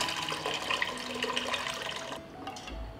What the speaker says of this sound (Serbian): vodu iz tegle sipaću u šerpu